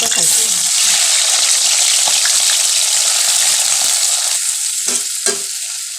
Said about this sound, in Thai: เราทอดไม่นานนะคะทอดให้มันเหลืองก็ตักขึ้นแล้ว